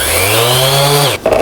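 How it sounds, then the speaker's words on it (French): A random orbital sander whines steadily at close range, its motor pitch holding even and then dropping as it spins down, ending in a brief clatter. "La différence avec une ponceuse orbitale, c'est que ça fait des mouvements aléatoires."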